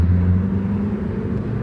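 A car pulling away hard from a standstill gives a steady, loud low engine rumble and whir that holds evenly throughout, with no speech.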